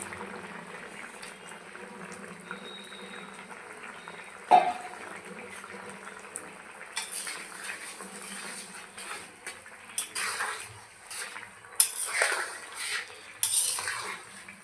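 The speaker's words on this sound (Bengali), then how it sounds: "এখন আমি ভেজে রাখা মাছগুলো দিয়ে দিচ্ছি" Fried fish being added to a simmering raw tomato and potato curry, with quiet bubbling at first, then clinks and scrapes of a utensil against the pot and irregular stirring sounds, close.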